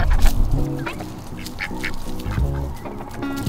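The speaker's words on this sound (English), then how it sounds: "What if I just picked up that duck?" A live duck quacks close by, its honking calls repeating in a busy, irregular pattern through the whole stretch, loud and unmasked by talk.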